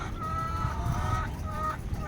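Laying hens cluck and cackle steadily at close range in a poultry house, several birds calling over a continuous low rumble.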